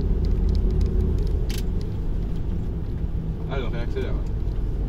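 A truck loaded to about 24 tonnes re-accelerates uphill on a French road, straining: a loud, steady low engine rumble fills the cab from start to finish, with someone talking over it.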